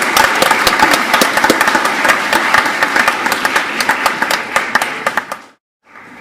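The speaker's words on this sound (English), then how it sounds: "Just going to give one big round of applause for all of our S4 prize winners" At a senior school awards ceremony, an audience claps for the S4 prize winners with sharp, distinct claps ringing out over a steady patter before the applause stops abruptly near the end.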